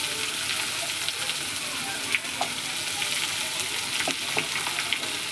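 Chopped onions and garlic fry in a pan for a fish and potato curry, giving a steady, close sizzle with a few soft stirring scrapes and spatters throughout.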